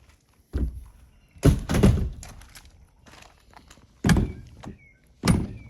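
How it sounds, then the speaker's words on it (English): A car door thunks shut among several solid knocks and bumps, each a short, fairly close impact separated by brief pauses, with no talking. "Let me shut this door."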